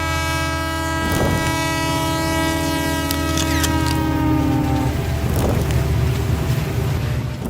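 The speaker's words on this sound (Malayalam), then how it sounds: "ചൂളം വിളിച്ച് പായുന്ന നമ്മുടെ ഈ ലോക്കൽ ട്രെയിനുകൾ" A Mumbai local train rumbles past with a loud, sustained two-tone horn blast that runs about five seconds over the continuous rolling clatter of wheels, which carries on alone afterward.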